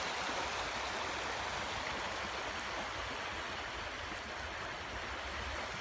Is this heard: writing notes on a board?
no